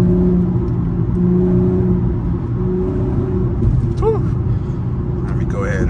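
Infiniti G37 with a muffler delete, heard from inside on a drive: a deep, loud, steady exhaust drone and rumble held at constant revs, with a faint chirping squeak near the end and a voice talking over it.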